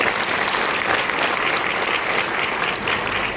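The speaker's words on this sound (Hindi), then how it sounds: "एक बार फिर से जोरदार ताली बजा दीजिए आप जितेंद्र सर के लिए" An audience at an evening Hindi poetry gathering (kavi sammelan) claps loudly and steadily, a dense sustained burst of applause from a sizable crowd with no voices over it.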